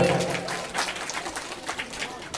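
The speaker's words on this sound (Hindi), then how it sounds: "यहाँ पे एक बार सुशील नेगी जी के लिए भी जोरदार ताली" Loud applause from a gathered audience in Hindi-speaking company, honouring Sushil Negi at a local community event; dense clapping runs steadily throughout with voices mixed in.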